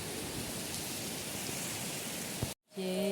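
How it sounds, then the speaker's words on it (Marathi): Heavy rain pours steadily at night over a Konkan village, a dense even hiss that cuts out abruptly near the end before returning with a faint tonal hum. "दहा वाजले तरी पाऊस जोरात पडत आहे"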